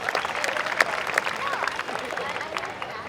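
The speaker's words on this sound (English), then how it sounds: "Big round of applause." Audience applause at a live robotics showcase with the humanoid robot Sophia on stage at a college tech festival, a scattered clapping crowd filling the room steadily with light chatter mixed in.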